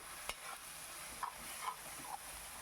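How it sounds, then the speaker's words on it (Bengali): Onion paste from three medium onions frying in a pan for an egg omelette curry, a faint soft sizzle punctuated by a few light spatula scrapes and taps nearby, with no voice. "বেশ ভালো করে নাড়ি চাড়িয়ে নিচ্ছি দেখুন"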